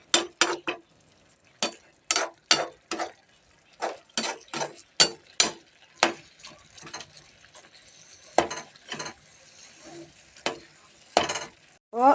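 Corn kernels are sautéed and roasted in a pan, with a spoon scraping and tapping in irregular stirring strokes over a faint sizzle, close and fairly quiet.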